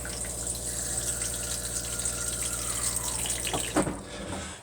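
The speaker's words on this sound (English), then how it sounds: "Your toilet, electric pump. Simply hold this button on here and she fills up with water." Water rushes steadily from an electric pump into a camper toilet in a Compass 194 caravan, a continuous close gushing that cuts off abruptly near the end with a brief clunk.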